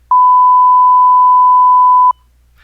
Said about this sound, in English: This one's just a beep.